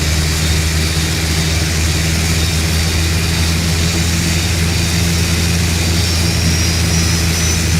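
The turboprop engine of an ATR 42-500 in the Prepar3D flight simulator spools up, a steady loud droning roar with a constant low hum and a high whine that holds evenly throughout.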